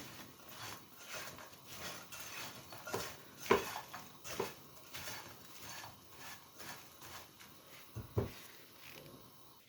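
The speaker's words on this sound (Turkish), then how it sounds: "İyice baharatıyla karıştırıyorum." Spoon stirring a filling of stale bread seasoned with black pepper and red pepper flakes, soft irregular scrapes and a few sharper knocks against the pan, fairly quiet and with no talking.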